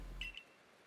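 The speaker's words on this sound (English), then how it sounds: "Your ARC phone's beeping" An Arc Phone in a Pokemon video game beeps twice in quick succession, a pair of short, high electronic chirps, fairly quiet and heard alone.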